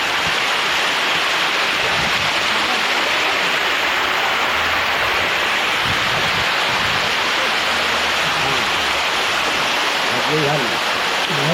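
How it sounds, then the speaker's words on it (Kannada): Waterfall near an old temple close to Srisailam in Andhra Pradesh, water dropping from above as a steady broadband roar that stays loud and unbroken throughout. "ಮೇಲಿಂದ ಬೀಳ್ತಾ ಇದೆ ಕೆಳಕ್ಕೆ ನೀರು"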